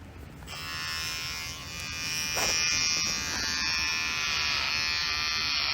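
Electric hair clippers fitted with a number 2 guard buzz steadily as they cut hair during a men's home haircut, a close continuous whine that starts after a brief quiet moment, with no talk.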